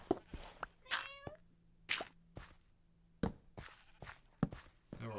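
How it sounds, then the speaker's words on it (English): Cats meowing in Minecraft, several short game meows with harmonic voices scattered among soft thumps and footstep-like plops, fairly close and clear, no talking. "There were also a lot of cats that were spawning."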